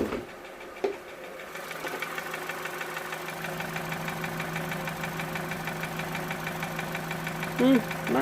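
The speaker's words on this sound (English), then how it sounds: "It is a funny idling for sure." A Vauxhall Corsa D 1.4 petrol engine idles with a steady, uneven rumble and faint ticking, heard up close from under the open bonnet, with a short knock near the start and a brief higher sound near the end.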